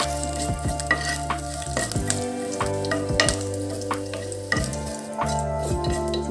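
Curry leaves crackle and sizzle in hot oil with sesame and mustard seeds over a low flame, a steady frying hiss running beneath prominent tonal background music with a few sharp pops.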